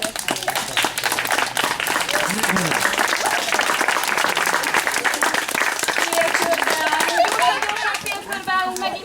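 Children and adults at a Mother's Day school performance break into loud, close applause, with sharp individual claps and lively crowd chatter mixed in throughout.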